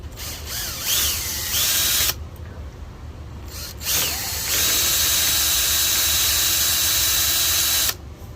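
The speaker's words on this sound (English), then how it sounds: "Now, let's drill this door out." A power drill whines loudly in several bursts, stopping and restarting, then runs steadily for a few seconds before cutting off, close by, drilling into a boat's aluminum door.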